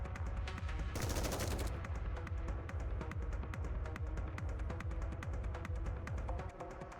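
Rapid automatic gunfire with live ammunition in the Nikke video game, a dense, steady stream of loud shots over a throbbing low hum, with a brief brighter burst early on and no talk.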